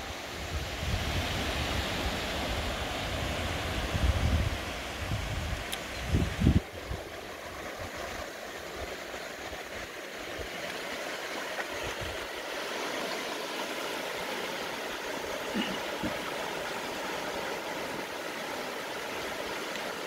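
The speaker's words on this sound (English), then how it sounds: "I leave you with this image here of the gentle waves breaking here at the Warren" Gentle sea waves break on the shore at the Warren near Rosscarbery, a steady, soft wash of surf with a few louder rumbles early on, continuous and unbroken by talk.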